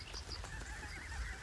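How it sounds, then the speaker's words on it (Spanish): Geese honk on a duck and goose farm in Périgord, several short nasal calls overlapping faintly over a low outdoor background. "Florian Boucherie cría patos y gansos en su granja en el Périgord"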